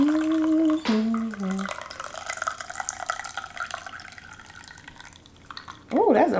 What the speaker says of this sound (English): Like that, and then pour the coffee over it.